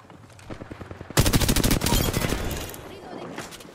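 Rapid automatic gunfire in the Apex Legends battle royale game erupts in a dense, loud burst of sharp repeated shots, preceded by quieter shooting and fading into softer trailing fire.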